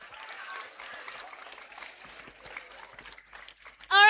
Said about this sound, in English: Give applause to Nathan.